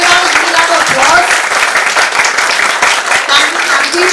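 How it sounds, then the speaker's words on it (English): Loud, dense applause from an audience at a speech event, sustained steadily for about four seconds with a bit of crowd voice mixed in. "can you all give that applause?"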